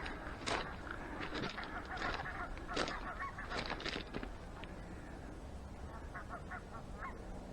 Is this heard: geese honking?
yes